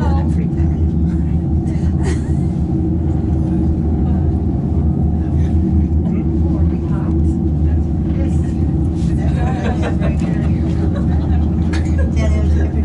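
Inside a Sandia Peak aerial tram car near a tower, a steady low rumble and hum of the cabin and cable fills the air, with faint creaks and clanks, while people talk in the background.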